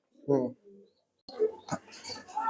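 Fancy Lakka pigeons at a breeder's loft give a single short, close coo, followed by someone talking.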